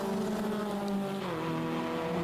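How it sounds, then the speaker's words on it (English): Toyota MR2 race cars scream past on the straight at Croft circuit, a loud, continuous engine drone that drops sharply in pitch midway as a car goes by. "Heading down the straight towards the complex goes Sean Traynor"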